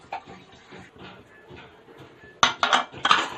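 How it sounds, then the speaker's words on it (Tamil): Steel pots and pans are washed in a home kitchen, with soft background noise giving way to a burst of sharp, close metallic clinks and clatters near the end. "இந்த கேப்பில் நாங்கள் பாத்திரமும் வாஷ் பண்ணிகிட்ருக்கோம்."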